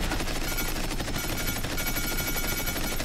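Dense, continuous automatic gunfire from shooting at enemies in the Paladins video game as the champion Talus, a steady rapid clatter filling the whole stretch with no voices.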